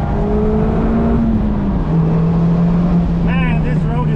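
A Mazda MX-5 Miata descends a mountain road in Germany's Black Forest. Its engine drones steadily and loudly up close, the pitch sliding down and then holding as the car shifts and cruises.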